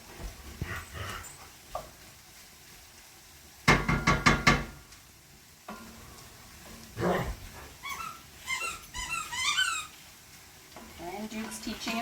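Dogs playing with a squeaky toy in a home kitchen, with rapid bursts of high squeaks, thumps and scuffling, loud and close, mixed with occasional talking.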